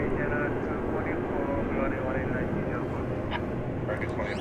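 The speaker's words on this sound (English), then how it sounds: "the incoming flight there was 2540 American Airlines arriving from Omaha" An American Airlines Boeing 737-800 arriving at DFW airport from Omaha gives a steady, fairly loud broadband engine roar for the whole stretch, with faint voices underneath.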